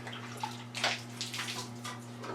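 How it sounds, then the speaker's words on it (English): Water pours and splashes steadily into the channels of a Piper Super Cub wing spar during cleaning, with a constant electrical hum running underneath and no voices. "So even though I flood it with some water,"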